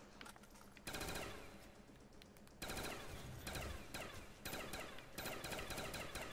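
Rapid bursts of automatic gunfire from Call of Duty Black Ops zombies mode on the Der Riese map, loud and continuous with short pauses between volleys and no talking.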